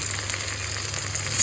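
Koi fish masala with turmeric, cumin, salt, red chilli paste and a splash of water sizzles steadily in a hot pan as it is sautéed, giving a close, continuous frying hiss with no voices.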